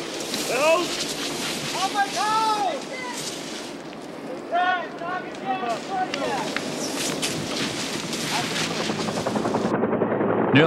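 A steady helicopter rotor drone from a firefighting aircraft over a wildfire runs throughout at moderate loudness while a person speaks over it.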